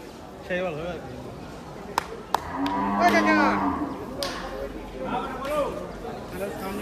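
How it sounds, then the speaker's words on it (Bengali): A cow gives a drawn-out moo up close at a crowded Qurbani Eid cattle market in India, with voices talking and haggling around it and a few sharp knocks. "কি জাতের গরু এটা?"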